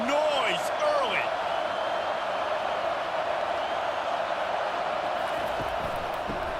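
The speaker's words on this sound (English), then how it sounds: "This crowd bringing the energy and noise early." Stadium crowd noise in the College Football 25 video game, Colorado State at Texas, a loud steady roar of fans with whistle-like rising calls at the start, continuous throughout.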